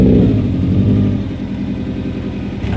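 Slammed Subaru WRX with a manual gearbox driving off slowly, a loud, close low engine rumble that holds steady and eases slightly toward the end.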